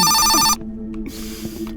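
A loud electronic telephone ring in a horror video game cuts off after about half a second, followed by quieter ambient tones and soft thuds in the game's background.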